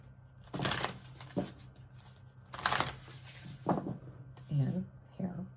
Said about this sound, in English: So I'm going to do a couple more shuffles.